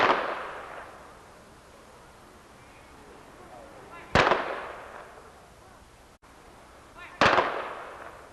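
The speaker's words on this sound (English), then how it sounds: "Salute by the American Legion Post 45 Firing Squad" Rifle volley salute fired by an American Legion firing squad at a Patriots Day ceremony in a town square: two sharp, loud cracks about three seconds apart, each trailing off with open-air echo, over a faint outdoor background.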